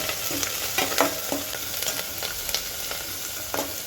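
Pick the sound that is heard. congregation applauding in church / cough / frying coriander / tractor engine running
frying coriander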